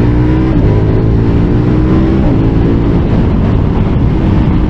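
A 2023 KTM 1290 Super Adventure S motorcycle engine drones loud and close while riding, with heavy wind rush over a steady low rumble and a slight shift in pitch partway through from a quick-shifter gear change.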